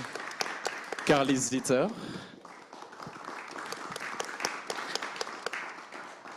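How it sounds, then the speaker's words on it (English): Audience at a climate arts conference applauds to welcome presenters, scattered clapping continuing under a voice announcing names near the start. "Applause."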